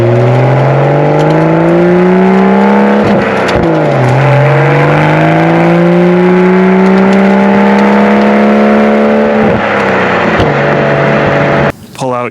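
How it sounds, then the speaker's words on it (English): A 2024 Toyota Supra 3.0 with a six-speed manual revs and rumbles loudly up close, with rising and falling exhaust tones and a few crackling pops between throttle blips. "I really like the pops and burbles that this thing makes."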